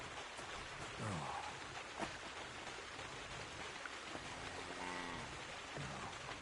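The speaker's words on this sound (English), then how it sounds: "Pissing down rain again." Steady heavy rain hisses down in the video game Kingdom Come II, a dense, even wash of noise with a few faint tones and bumps poking through.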